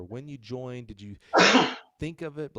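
A single loud sneeze bursts out between stretches of conversation, with people talking just before and right after it.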